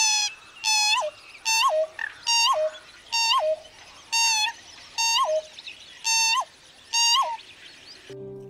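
A pheasant-tailed jacana in breeding season gives a series of about eight mewing calls, each a short nasal note with a downward-bending tone, spaced roughly a second apart and clear against a quiet background.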